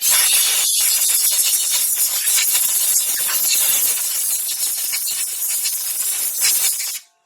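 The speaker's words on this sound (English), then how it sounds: "And a little compressed air." Compressed air blasting over Audi A4 rear brake parts after a brake-clean spray, a loud continuous hiss that holds steady for about seven seconds and then cuts off abruptly, with no talking.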